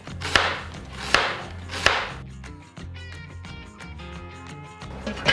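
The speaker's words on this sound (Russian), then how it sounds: "Нарезаю тонкими полукольцами" Three loud knife chops strike a board, followed by quieter rapid strokes slicing an onion into thin half-rings, close up with no speech.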